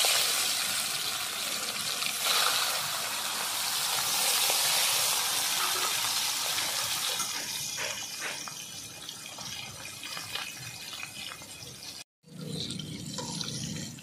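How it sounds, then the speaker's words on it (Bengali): Small rohu fish coated in turmeric fry in hot oil with a steady, hissing sizzle that gradually softens, breaks off abruptly near the end, then resumes. "মাছ সব ভাজা হয়ে গেছে।"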